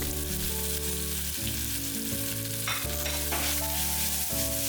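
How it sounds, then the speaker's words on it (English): Chopped onions, tomatoes, ginger and garlic sauté in a cooker, giving a steady low sizzle and stirring noise mostly buried beneath loud continuous music. "I'll add the chopped veggies in the cooker along with ginger and garlic"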